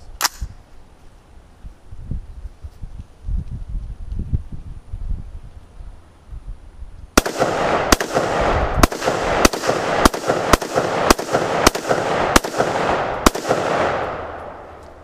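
An AR-15 rifle fires ten rounds in a steady rhythm, each shot a sharp, loud crack with a short ringing tail, following a quieter stretch of low rumbling handling noise.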